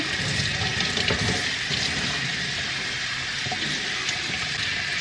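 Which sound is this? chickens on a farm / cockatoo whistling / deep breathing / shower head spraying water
shower head spraying water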